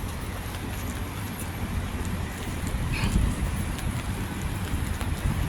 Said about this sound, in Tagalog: Ayun, humangin din. Humangin na naman.